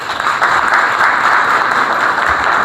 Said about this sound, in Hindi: इस बच्चे के लिए तालियां मिले।